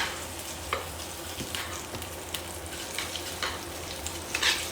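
Slices of belly pork sizzle and crackle steadily in a hot frying pan, a close, continuous fry with occasional sharper pops and spits and no voices.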